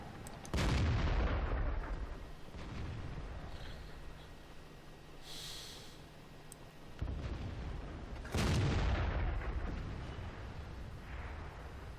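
The SU-100 tank destroyer's gun fires in World of Tanks on the Erlenberg map, two heavy booming blasts several seconds apart, each followed by a long rumbling decay over engine noise.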